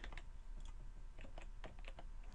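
Typing on a computer keyboard while entering math work online: a quiet, steady run of close key clicks in uneven bursts, with no talking.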